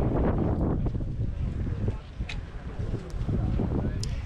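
Strong November wind at an outdoor flea market in Grafton, Massachusetts buffets the microphone with low, rumbling gusts throughout, constant and close, with faint sounds in the background.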